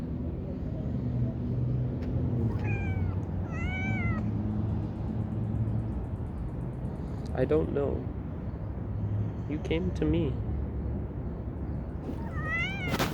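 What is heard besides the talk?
cat meowing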